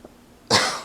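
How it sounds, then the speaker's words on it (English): A single harsh cough breaks out close and loud, a sharp burst following a faint throat sound and tailing off quickly. "making me cough"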